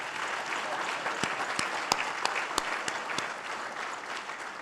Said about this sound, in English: how about a round of applause for Steve Weiss of the NFL Network?